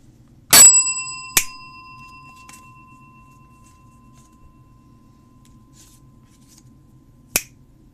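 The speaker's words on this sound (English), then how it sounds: "You ring your bell." During a tabletop Inscryption game, a metal bell gets two quick dings that ring bright and close, with the first one ringing out longest, followed later by a third single strike in an otherwise quiet room.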